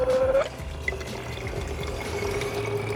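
Water from a Dometic GO water jug runs through its powered faucet in a steady close stream, with a low motor hum underneath and a brief tonal whine at the start.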